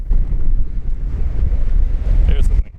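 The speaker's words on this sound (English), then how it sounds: "There's the wind gust I was thinking of coming." A wind gust on a mountain ridge along the Franconia and Garfield ridges near Mt Lafayette, buffeting the microphone with a loud, low rumbling roar that sustains throughout and drops off at the end.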